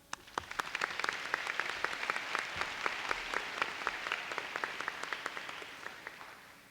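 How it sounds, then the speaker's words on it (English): Audience at a 2017 high school graduation ceremony applauding the faculty, a sustained wash of many clapping hands, moderately distant and steady, with no voices over it. "Please give a round of applause for our faculty."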